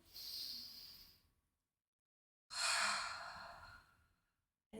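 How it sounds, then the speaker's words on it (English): Two slow, airy breaths taken close to the microphone during a tai chi self-massage exercise for low back pain, each a soft hiss separated by a pause of silence. "breathing in"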